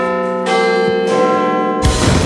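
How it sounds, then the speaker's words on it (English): A bell rings out clearly with sustained, resonant tones, struck twice more in succession, each strike loud and lingering. "The bell's ringing."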